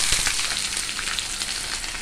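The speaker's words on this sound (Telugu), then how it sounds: "ఇట్లా పోపు వేగిన తర్వాత" Spice tempering frying in oil in a pan for gongura pulusu curry, before onions are added: a loud, steady crackling sizzle with no talk.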